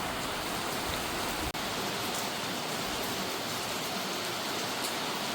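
Steady rain falls outdoors in a nature spot during a long drive, a dense even hiss that holds unbroken throughout, with one brief sharp dropout partway through.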